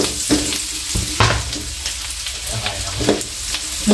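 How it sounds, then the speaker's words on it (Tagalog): Garlic sizzles steadily in a hot pan, with a few stirring clatters and scrapes breaking through the frying hiss. "Nalagyan natin po yung ating bawang"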